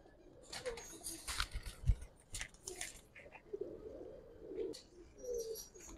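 Khaki pigeons, a male and a female, cooing nearby in soft repeated bursts, with scattered chirps and occasional wing flutters in between.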